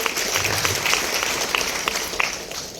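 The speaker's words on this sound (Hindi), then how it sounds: "सो जोरदार तालियां हमारे गुरु माँ के लिए," An audience applauds in honor of a teacher at a talk about a student's success story. The clapping is loud, dense and continuous, with a thick wash of many hands that stays close throughout.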